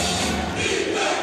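Basketball crowd cheering at an MPBL game between Sarangani and Muntinlupa, a brief dense roar of many voices, loud and sustained.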